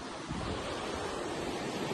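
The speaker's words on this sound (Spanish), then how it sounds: "lo único que está el mar un poquito picado." Choppy Mediterranean sea off the coast at Cala Fornells, Mallorca, with steady broadband surf wash and wind buffeting the microphone, continuous and fairly loud with no voices.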